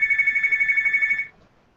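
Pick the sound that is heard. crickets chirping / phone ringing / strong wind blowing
phone ringing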